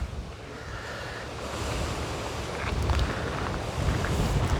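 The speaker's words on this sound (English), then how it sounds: "How choppy that water is." Choppy water on the River Mersey at Liverpool, waves sloshing and breaking in a continuous rough wash that swells slightly louder toward the end, with wind noise on the microphone and no speech.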